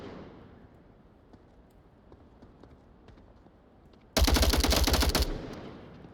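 Sustained burst of automatic gunfire in the VR shooter Onward, loud and close, lasting about a second over a quieter ambient bed.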